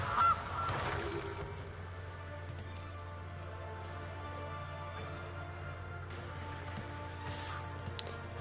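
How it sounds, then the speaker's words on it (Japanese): A golden goose card in MTG Arena gives a brief honk at the start, followed by soft game ticks and clicks over a steady musical drone. "はい、金のガチョウ。"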